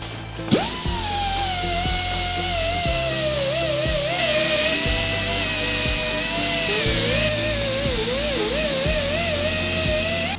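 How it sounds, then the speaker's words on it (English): A power grinder strips paint from a metal flathead desk lamp, a loud close continuous whine that shifts pitch as it bites, with rhythmic clicking underneath. "I'm gonna have to grind all this paint off and polish these surfaces up the hard way"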